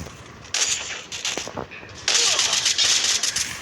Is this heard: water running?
no